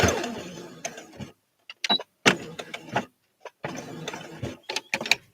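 A sewing machine stitches bias binding in short, near bursts of mechanical whirring, split by quiet pauses and small clicks from handling the fabric and the machine.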